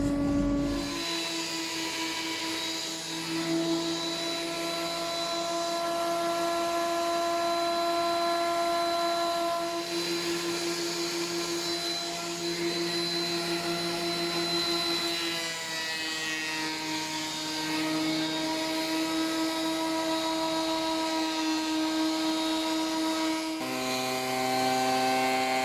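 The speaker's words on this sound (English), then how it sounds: "I'll be able to run them through the planer" A thickness planer feeds sapele wood boards, a steady loud machine whine with strong tonal hum that holds almost unbroken for the whole stretch, shifting pitch slightly as boards pass through, with brief dips between passes.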